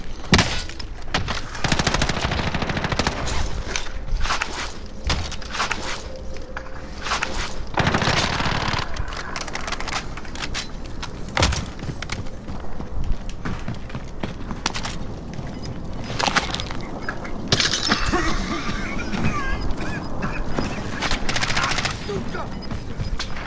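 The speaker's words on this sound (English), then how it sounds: "Keep shooting. Just shoot." Rapid, sustained gunfire in Call of Duty: Modern Warfare Warzone, dense bursts of automatic fire and shots rattling almost nonstop, loud and close, with occasional voices in between.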